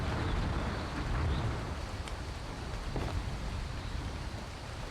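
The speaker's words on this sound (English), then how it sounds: "There's the rain, like usual." Steady rain falling in the survival video game ARK, a constant dense hiss with no clear rhythm, moderately loud and filling the scene.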